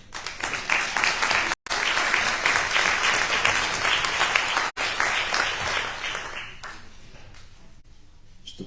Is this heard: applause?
yes